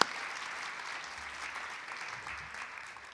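An audience claps steadily, a sustained wash of applause that slowly fades toward the end, with no speech over it.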